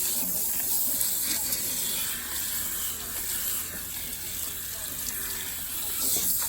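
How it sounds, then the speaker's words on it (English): Water runs steadily at a salon sink as hair color is rinsed out, a soft continuous hiss and splash at moderate distance with no speech over it. "once we rinse her color, we're going to shampoo her."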